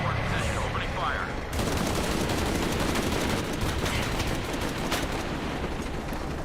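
Helicopter gunfire rattles in the game Shadow of the Tomb Raider, a loud, continuous stream of rapid shots over a dense roar, with a voice speaking at the start.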